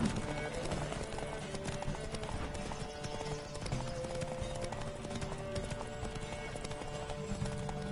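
Horse hooves pounding rhythmically in a galloping race in the video game The Witcher 3, a continuous fast clip-clop under game music and occasional voices throughout.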